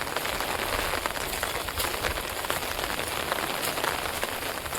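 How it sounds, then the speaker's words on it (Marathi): Steady rain pours down, a dense continuous patter of drops striking a surface close by, with no voices. "आता थोडं अजून पाऊस लागलो"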